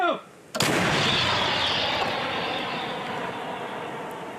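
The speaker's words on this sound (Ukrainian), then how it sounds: "Постріл!" After a short quiet moment, a single heavy artillery shot booms out on a frontline battlefield, its loud roar rolling and slowly fading across several seconds.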